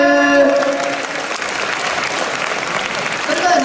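Loud, sustained applause from a school festival audience during a night-time stage event, continuous clapping filling the whole stretch, with a brief tonal voice or music line at the start.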